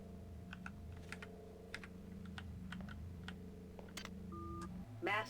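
Sharp keyboard key clicks, some single and some in quick bursts, over a steady low electronic hum while System Shock 2 is played, ending in a short louder rising sound.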